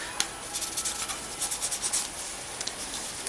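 Cotton swab rubbing across a graphics card to wipe off old, dried thermal paste, a soft continuous scrubbing with quick rhythmic strokes, close and faint, with no talking.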